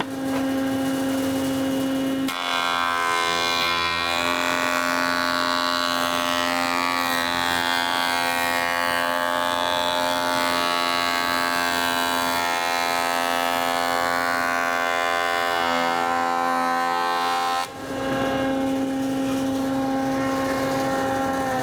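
A jointer takes a slow final pass along a wooden board to remove ripples, its loud steady cutterhead whine rising into a rough shearing roar through the cut, then settling back to the idling machine hum.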